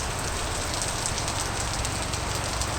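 A monsoon rain shower falls over a Konkan village as a steady, dense hiss of rain on surfaces, constant and even throughout with no talking.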